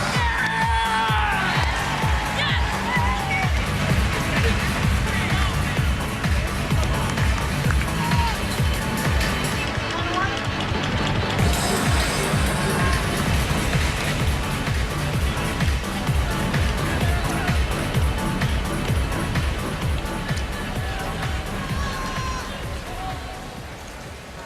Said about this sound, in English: One more round of applause for your 2007